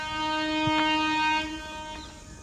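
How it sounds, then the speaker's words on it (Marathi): A goods train goes by with a loud, sustained horn-like drone and rumbling rail noise, fading slightly toward the end. "ट्रेन आली बघ."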